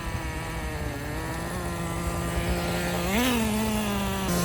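A Traxxas T-Maxx nitro RC car engine runs at half throttle, a loud close buzzing drone with steady pitch that rises briefly around the three-second mark before settling higher, then drops at the end.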